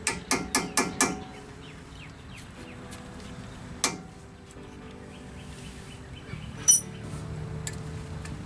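A thin chisel tapped against the lower control arm of a 1994 Toyota pickup: five quick metallic taps in a row, then a single later strike and a few faint clinks, all close and fairly quiet.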